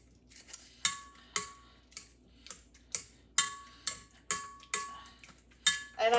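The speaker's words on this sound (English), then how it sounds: "Now I'm just going to take my regular potato masher and just kind of mash these." Regular potato masher pressing potatoes in a pot of shepherd's pie soup, a series of about a dozen sharp metallic clacks against the pot at a steady rhythm, close and fairly quiet.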